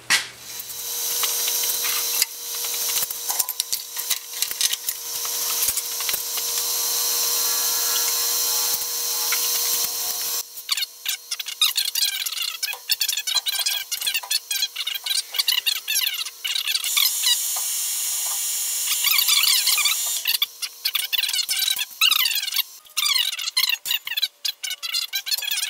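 A power drill bores out metal emergency box face plates, with a steady loud whine for the first ten seconds, then a stretch of sharper grinding and scraping bursts as the bit works through the metal, no talking.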